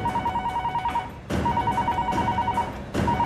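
A telephone rings in a film scene, repeated bursts of bright electronic ringing with a short gap between cycles, fairly loud over a low background.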